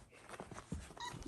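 Standard Poodle puppies whimper and yip faintly in short, soft bursts, close and quiet with no other sounds.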